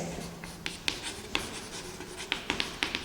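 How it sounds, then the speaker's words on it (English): Chalk or marker writing on a board during a classroom lesson: a series of quiet, brief scratchy taps and strokes, irregular in rhythm, over faint room hiss with no talking. "So let us write the definitions now."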